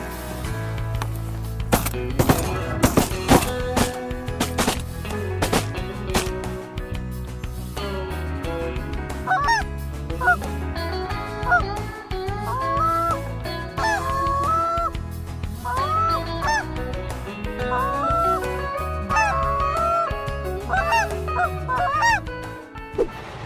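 Snow geese and Canada geese honk in a large flock during a goose hunt in Alberta, with many overlapping calls, some near and loud, alongside sharp thumping sounds.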